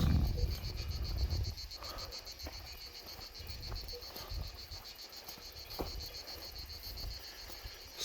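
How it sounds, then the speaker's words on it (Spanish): A cicada's steady pulsing drone buzzes continuously through an outdoor pasture ambience, with faint frog-like croaks and soft rustles underneath. "Y a chicharra cantando."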